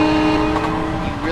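A Metro-North M7A electric commuter train in Train Simulator 2021 on the Hudson Line gives a steady rolling drone with a sustained horn-like tone, loud and close, heard alone.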